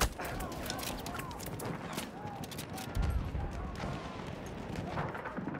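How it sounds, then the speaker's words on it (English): Machine gun fire and scattered gunshots in a Battlefield 1 battle, dense and continuous at mid distance, with a louder burst near the middle, under a noisy wartime soundscape. "Look out! Machine gun!"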